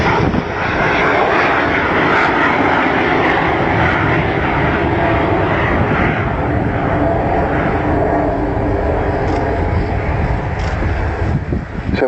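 Avro Vulcan XH558 bomber at an air display, its jet engines roaring in a loud, sustained broadband rumble that holds steady throughout with no pauses.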